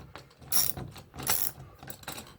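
Screw stripping out while being driven into a wall while a TV mounting bracket is installed in a child's room, heard as harsh grinding, ratcheting bursts from a driver spinning against the stripped hole, close and fairly loud.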